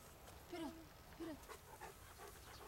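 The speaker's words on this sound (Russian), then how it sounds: "Вон собачка, вон собачка." A dog makes a few short, faint whining vocalizations outdoors, spaced about a second apart, with quiet human talk around them.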